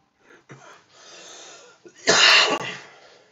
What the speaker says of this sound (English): Sorry if you guys hear me cough